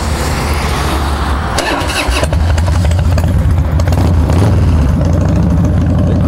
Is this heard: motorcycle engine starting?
yes